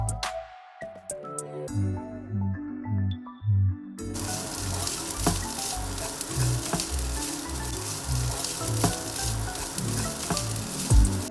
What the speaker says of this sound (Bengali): এবার আমি রাইসটাকে খুব ভালোভাবে 3 থেকে 4 মিনিটের জন্য ভেজে নেব।